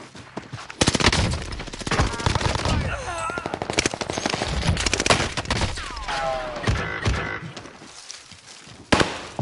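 Rapid automatic gunfire from a battle royale video game, dense crackling bursts spread across the whole stretch with short pauses, mixed with in-game voice callouts and other game effects.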